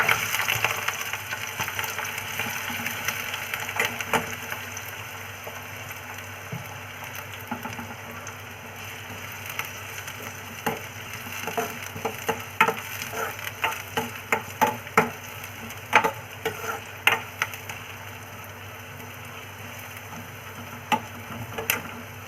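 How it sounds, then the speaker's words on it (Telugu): Onions frying in hot oil for a chicken curry, a soft steady sizzle that builds into sharper crackles and pops toward the end, no voices. "ఆయిల్ అయితే వేడయింది కదా ఇప్పుడైతే ఉల్లిపాయలు వేస్తున్నాం"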